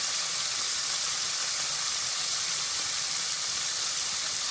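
Shrimp searing in a hot skillet, a steady broad hiss and sizzle that holds evenly throughout without any talking.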